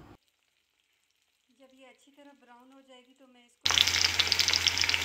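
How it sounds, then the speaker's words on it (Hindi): Cut okra dropped into hot oil for deep frying bursts into a loud, dense, crackling sizzle that starts abruptly and continues, after a brief stretch of someone speaking over near silence. "तो ये भिंडी मैंने काट के रख दी है, अब मैं इसको ऑयल में डीप फ्राई करूँगी।"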